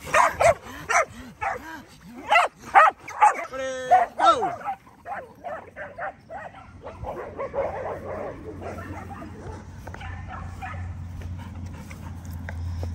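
Several dogs bark, yip and whimper while playing at a rural sanctuary, with rapid close barking bursts early that thin out into scattered yips and quieter activity.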